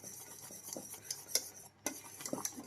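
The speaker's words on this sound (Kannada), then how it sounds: "ಕೈ ಬಿಡದೇನೆ ಮಿಕ್ಸ್ ಮಾಡಬೇಕು." A spoon stirs and scrapes a cream mixture for an eggless red velvet cake in a pan on the stove, giving a steady run of soft, close scraping strokes with brief clinks and one short pause.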